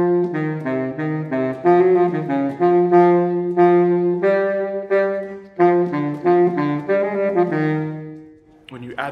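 Baritone saxophone plays several bars of a passage with the lower notes emphasized, detached rhythmic phrasing, solo and close, ending with a brief pause.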